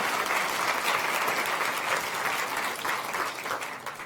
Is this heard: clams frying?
no